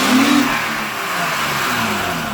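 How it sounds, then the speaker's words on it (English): An Acura TL, a 2004-2008 model fitted with a new aftermarket intake, revs its engine loudly and up close, a single sustained rising roar that holds steady through the short burst. "Rev her up. Hear that?"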